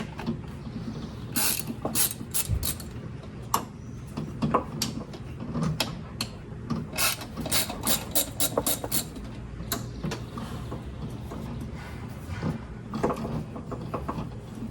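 A wrench turning a stuck part on an old truck, giving repeated sharp metallic ratchet clicks and clanks in uneven bursts, close and moderately loud against a low background rumble.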